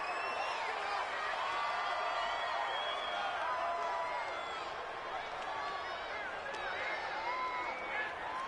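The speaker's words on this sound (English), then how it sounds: "the crowd getting into it as we come up on a big third down" Stadium crowd in Madden NFL 20 roaring at a Ravens–Steelers game, a dense, sustained wash of cheering and whoops at steady volume, with broadcast commentary talking over it.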